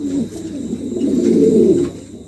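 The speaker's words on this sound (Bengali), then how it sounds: "একজোড়া কবুতর খুবই চমৎকার" A pair of Roman pigeons coo softly in a low, throaty murmur, a couple of rolling calls close by with faint background hiss.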